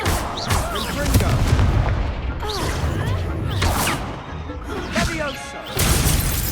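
Confringo explosive spell blasts in the Hogwarts Legacy video game during a duel: repeated loud, crackling booms and bursts in quick succession, with shattering debris, dense and close.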